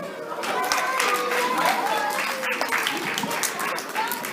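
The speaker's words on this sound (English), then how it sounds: "Y'all give him a round of applause." A children's audience at a school literacy night claps in a lively round of applause, fairly close and sustained over several seconds, with scattered voices mixed in.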